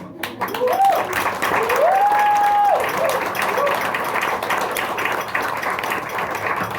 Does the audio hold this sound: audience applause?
yes